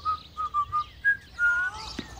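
A person whistling indoors in a farmhouse drama, a short run of clear, bright notes with brief gaps, then a longer sliding note, close and fairly loud with no talking.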